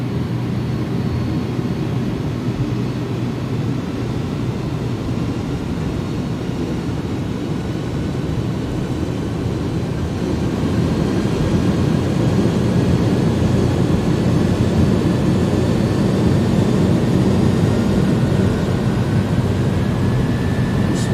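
Jet engines of an iniBuilds A300 in X-Plane 11 spool up for takeoff: a loud, continuous broadband roar that swells noticeably partway through and then holds steady, with a faint rising whine beneath.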